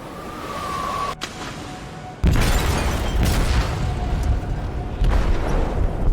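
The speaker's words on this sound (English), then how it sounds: "They detonated an explosive in the hold." An explosive detonates in a ship's hold in Detroit: Become Human, a sudden deep boom that gives way to a sustained loud rumble over a quieter tense ambience.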